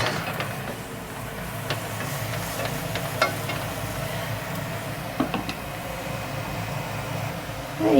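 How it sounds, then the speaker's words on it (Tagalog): Onions sautéing in oil in a pan for palabok, a steady soft sizzle with occasional scrapes and clicks of stirring, close and continuous throughout. "igisa lang natin tong sibuyas"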